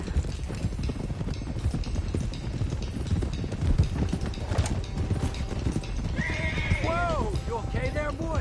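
Horses in the Red Dead Redemption 2 video game clop along steadily with dense hoofbeats, then several loud whinnies and neighs ring out near the end, with faint mechanical rattling in the mix.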